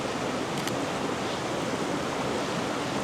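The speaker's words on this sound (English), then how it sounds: "lead in to this little cascade of water here" A small cascade of water at Wyming Brook in the Peak District rushes in a steady, close, full-bodied wash with no talk.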